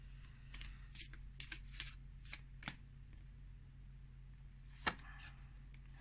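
Tarot cards are shuffled before a single card is drawn, giving a run of soft riffling bursts over a steady background hum, then a sharper snap near the end, with no talking.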